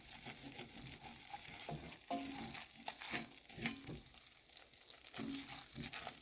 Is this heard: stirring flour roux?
yes